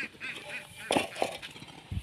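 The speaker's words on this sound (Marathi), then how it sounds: "ते बघा बदक आहे तिथे" A duck gives a few short honking quacks at a middle distance, separate calls spaced a fraction of a second apart over quiet outdoor background noise.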